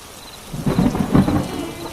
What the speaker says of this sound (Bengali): আর একটু অপেক্ষা করি, দেখি যদি বৃষ্টিটা কিছুটা কমে।